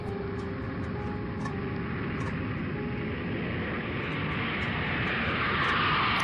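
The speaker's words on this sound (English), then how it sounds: "A jet pilot knows well in advance his landing gear has malfunctioned." A jet coming in to land with malfunctioning landing gear lowered slow and low: a steady, loud, broad roar that swells toward the end, with no voices.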